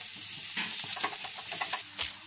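Chopped garlic and celery sizzle in olive oil in a pan as they are stirred, a close, steady frying hiss with scraping stir strokes and no talking.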